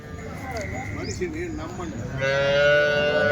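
A cow gives a long, wavering moo nearby at a busy weekly cattle market in Punganur, followed by louder, busy crowd noise and voices in the background.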